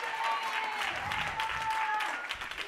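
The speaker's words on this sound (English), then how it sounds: "Clap it up for her." A conference crowd at a women's leadership celebration breaks into loud, dense applause with cheering voices mixed in, sustained across the moment and tapering slightly toward the end.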